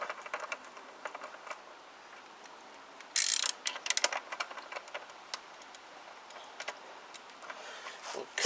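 Small bolts being nipped up on a Kymco Agility 125 scooter, heard as quiet, irregular ticking and clicking with a sharper burst of metallic rattles partway through, close by and with no talk.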